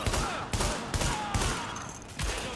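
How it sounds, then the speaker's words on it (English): Gunfire from the Tom Clancy's The Division video game, with rapid bursts of shots crackling in quick succession and several louder volleys cutting through a dense, continuous battle din. "Reporting gunfire in the station above us."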